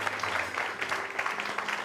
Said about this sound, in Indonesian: Boleh tepuk tangan untuk Mbak Tia